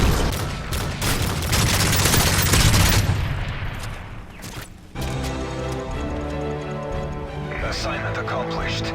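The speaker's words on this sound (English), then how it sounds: "Friendly predator missile inbound." A predator missile strike and gunfire in a military shooter video game: dense rapid gunfire and explosive bursts build to a loud peak, then give way to a steady mechanical drone with continued shots, while voices from the game talk over the action.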